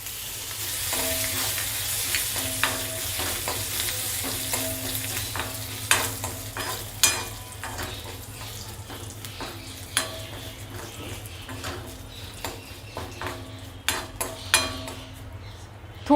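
Curry leaves crackle and sizzle in hot ghee while a spoon stirs them, with frequent sharp clinks against the pan over a steady frying hiss, close and alone with no talking.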